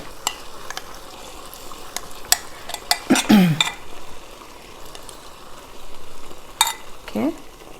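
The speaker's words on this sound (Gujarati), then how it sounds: "હું આને લગભગ 2 થી 3 મિનિટ સુધી ફરાવીશ" Almond halwa mixture is stirred in a pan with soft scrapes and a few louder utensil knocks against the metal over a low, steady cooking hiss.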